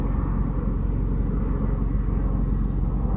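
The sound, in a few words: turbo Honda Civic 8th gen idling at a red light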